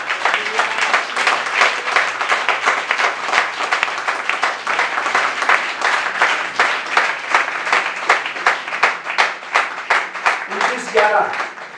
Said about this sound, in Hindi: यहोवा के लिए तालियां बजाएं।